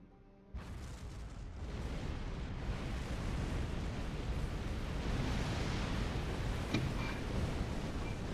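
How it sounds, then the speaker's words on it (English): Explosive charges detonating in Star Trek Online, starting with a sudden heavy boom that swells into a sustained rumbling roar lasting several seconds, loud and close, with no talking. "The charges on the surface are ready to detonate on your command. Acknowledged. Detonate charges."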